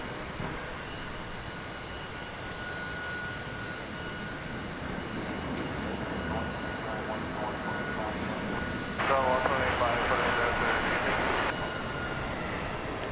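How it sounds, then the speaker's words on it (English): A Boeing 777-300ER airliner, arriving from South Korea at Dallas Fort Worth Airport, roars steadily from a distance, its engine drone swelling slightly toward the end, with a voice talking over it. "that was a 12-hour and 15-minute flight from South Korea on that 777-300ER"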